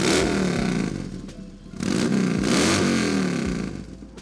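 Fuel-injected 96 cubic inch V-twin of a 2008 Harley-Davidson Dyna Super Glide revving hard and close, a loud continuous roar that dips briefly and swells again, with some mechanical clatter.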